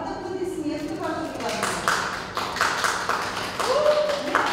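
Guests at a wedding registration ceremony applaud, with scattered claps that start thin and grow into steady clapping from a small gathering, mixed with voices and a sustained tone in the background.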